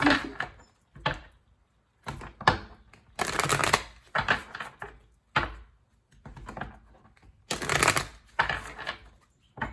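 Tarot cards get shuffled by hand in repeated riffling bursts of papery flutter and slaps, close and fairly crisp, with brief gaps between rounds and no talking.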